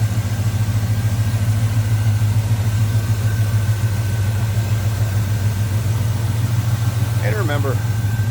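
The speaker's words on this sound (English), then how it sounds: "Smooth running, good sounding truck." A 1985 Chevrolet K10 Custom Deluxe 4x4 pickup with a 305 V8, pedal block intake and ATI ignition idles steadily and smoothly up close, a deep even rumble throughout with a brief higher chirp near the end.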